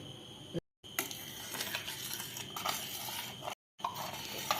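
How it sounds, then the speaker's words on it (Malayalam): Thickening arrowroot chocolate pudding stirred in a pan, with a steady soft scraping and faint sizzle, occasional light clinks of a spoon on metal, and two brief silent gaps. "ഇതിപ്പോൾ ഇങ്ങനെ കുറുക്കി ഇങ്ങനെ വരുന്നുണ്ട് അപ്പോൾ ഇങ്ങനെ ഇളക്കിക്കൊണ്ടിരിക്കണം"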